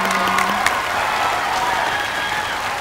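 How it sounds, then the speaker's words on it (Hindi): Loud crowd applause from a studio audience honouring a music performance on a Hindi entertainment show, dense clapping mixed with some crowd noise and a brief tonal note at the start, sustained throughout. "जोरदार ताली बजाओ"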